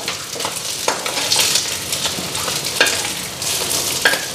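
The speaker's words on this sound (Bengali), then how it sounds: "আর এদিকে আমার মাছও ভাজা হইতেছে" Fish fries in a hot pan with a constant loud, crackling sizzle, close up, punctuated by a few sharp spits and the scrape of stirring, with no voices.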